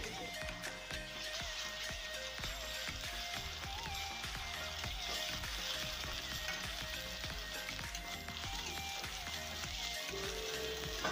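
Onion and ginger-garlic paste fry in a pan for a Bengali pangas and tengra fish curry, a dense, steady sizzle broken by repeated scraping and knocking of a spoon as the mixture is stirred.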